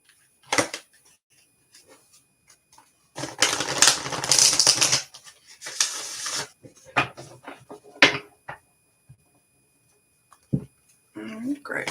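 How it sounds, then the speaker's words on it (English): A tarot deck being cut and shuffled during a live card reading, with bursts of riffling card noise, a longer flurry in the middle, and a voice talking between them. "I need to cut the deck again"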